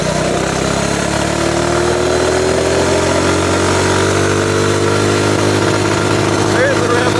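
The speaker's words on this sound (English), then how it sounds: "There's the rev limiter." A Ghost 212 engine swapped into a mini bike runs steadily at high revs, bouncing off its 6,000 RPM coil rev limiter in a loud, continuous, close drone with a slowly rising tone.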